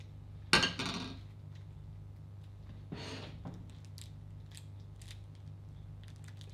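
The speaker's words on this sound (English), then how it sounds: "Cut my chocolate." Chocolate for decorating an apricot croquembouche is cut once with a sharp crack, then a softer cut follows, with faint clinks over a steady low kitchen hum.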